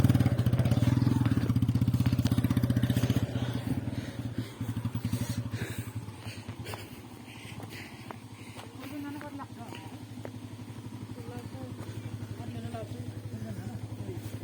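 Motorcycle engine running steadily throughout with a low droning hum, loudest in the first few seconds then easing slightly, as riders travel along with voices talking over it.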